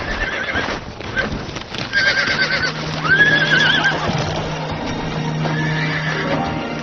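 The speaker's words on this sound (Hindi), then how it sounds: "उस बेचारे बूढ़े घोड़े को देखो।" An old horse in an animated cartoon neighs and whinnies with clip-clopping hooves, the calls rising loud and close over busy background sound, with no talking.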